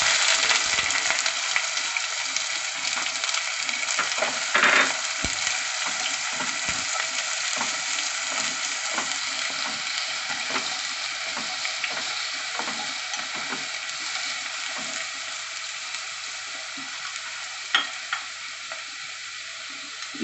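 Onions sizzle steadily in hot oil in a pan after the garlic, sautéing for a Kerala-style onion curd curry, with a dense continuous crackle, occasional stirring scrapes and no voices.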